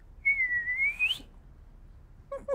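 A person whistles an imitation of the Clangers, thin and pure like a penny whistle: one sustained, slightly wavering note that bends upward at the end, followed by silence and a brief snatch of voice.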